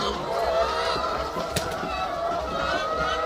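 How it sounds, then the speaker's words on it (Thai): A large flock of laying hens on an egg farm in winter, a continuous close chorus of clucking and murmuring with a brief sharp sound in the middle and a voice faintly underneath. "ไก่เยอะมากเลย"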